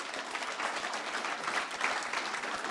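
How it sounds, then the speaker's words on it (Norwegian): Audience applause at a Berserker arm wrestling match between Robert Stakston and Frode Haugland, a steady wash of clapping from a crowd, even and sustained throughout with no voices standing out. "Gi deg en stor applaus."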